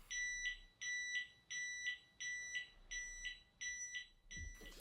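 A standing desk control panel sounds its timed alarm: seven evenly spaced pairs of electronic beeps in a steady rhythm, fairly quiet and alone, ending with a soft thump.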